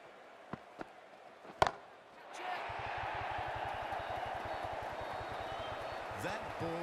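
A crisp, sharp crack of a cricket bat striking the ball during the India versus Pakistan Asia Cup 2025 final, preceded by a couple of fainter knocks, then a swelling crowd roar with commentary over it.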